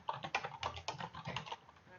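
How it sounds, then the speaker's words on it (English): Quick, irregular keystrokes on a computer keyboard while entering bulleted text in PowerPoint 2013, a close, steady run of clicks with no voices. "I'm typing."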